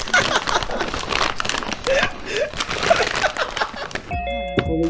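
A bag of crisps is crinkled loudly and continuously close to the microphone, rustling bursts over a few seconds, followed by a short chime-like tone at the end.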